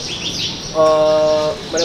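Ciblek bird (prinia) in captivity giving a short, loud, close tonal chirp burst over background chatter and other small bird calls.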